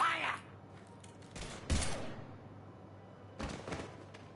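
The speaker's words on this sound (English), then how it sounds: "Now open fire!" Gunfire from the video game Mass Effect 3 comes in three sharp bursts, one short and two longer, with a brief voice at the start and quieter ambience between the shots.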